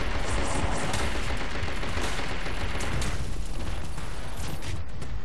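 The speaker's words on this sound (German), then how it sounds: "ich bin ja gerade die ganze Zeit am Schießen hier" Continuous gunfire in the video game Minimum, a dense, loud barrage of rapid shots and bursts that runs without pause from start to finish, with no talk over it.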